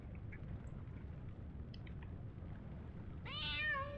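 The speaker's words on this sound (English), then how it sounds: "Why there's a cat down here, I do not know." A cat in the Dragon Quest Builders 2 video game lets out a single short meow near the end, after a quiet stretch of soft low background hum and faint clicks.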